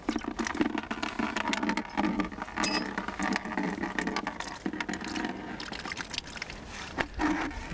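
Coolant drains from a Honda CX500 motorcycle radiator into a container, a continuous close splashing trickle with uneven gurgles and a few small drips and knocks.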